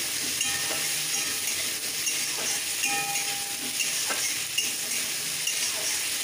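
Spice masala and chopped potatoes frying in a pan for a moong dal dish, a steady close sizzle and hiss with occasional faint stirring scrapes.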